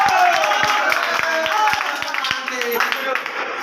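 Rhythmic hand clapping at a steady beat, roughly three claps per second, under a voice chanting or speaking at a temple.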